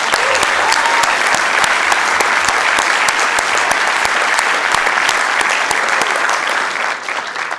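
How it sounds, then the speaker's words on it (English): Loud, sustained applause fills a city council chamber for a championship soccer team, dense clapping with sharp individual claps standing out, holding steady before easing slightly at the end. "we didn't give them a round of applause for that"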